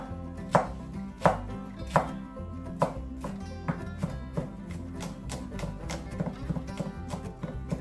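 Knife chops garlic on a cutting board while chicken feet are being prepared, giving a run of sharp, close wooden taps, strong at first and then quicker and lighter, with no speech.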